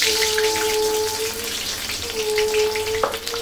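Onions sizzle steadily in hot oil in a pan for egg and potato curry, a continuous loud frying hiss with a faint tonal hum running through it and a brief clink near the end.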